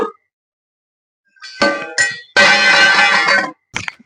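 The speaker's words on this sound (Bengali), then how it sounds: "এখন ঢাকা সরিয়ে দেখব পিঠাগুলো একদম সিদ্ধ হয়েছে কিনা।" A metal lid comes off a steaming pot of kadam-flower-shaped pitha: a couple of quick clinks, then a loud second-long rattling clatter, and a last faint tap, with no voices.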